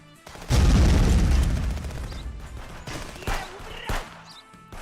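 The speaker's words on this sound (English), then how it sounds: "Don't throw grenades at me." Grenade explosions in a military video game: one loud, close deep boom with a long rumbling decay, followed by two shorter, sharper blasts, with faint voices in the background.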